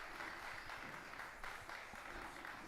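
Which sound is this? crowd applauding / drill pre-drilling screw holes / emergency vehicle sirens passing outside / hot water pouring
crowd applauding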